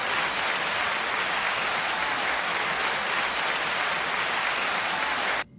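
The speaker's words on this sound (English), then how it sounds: "9-second applause" Steady, dense applause from a crowd greeting a co-host on a rap culture show, sustained evenly at full level before cutting off abruptly.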